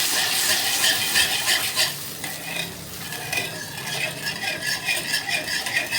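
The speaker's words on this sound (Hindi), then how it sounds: "ये सॉस इस तरह से पक रही है" Sauce cooks in a kadhai over rising heat, a bright bubbling sizzle with rhythmic scraping and rattling from stirring, close and continuous, with no talk.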